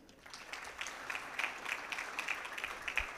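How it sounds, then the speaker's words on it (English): An audience at a CEOs' leadership panel discussion applauds a panelist, a moderate, steady patter of many hands clapping from across the room, no voices over it. "A round of applause for him."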